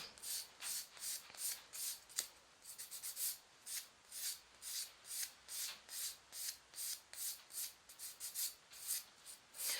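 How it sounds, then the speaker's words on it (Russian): A 100/180 grit nail file rasps across a gel-polished fingernail in steady, quick back-and-forth strokes, a soft close scratching rhythm with no talking. "Если бор-машины нет, спиливаем пилочкой. Я пользуюсь Planeta Nails 100 на 180. Спиливаем пилочкой."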